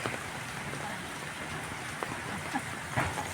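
Steady rain patters and hisses on a surface, with scattered louder drops, fairly faint and with no one speaking.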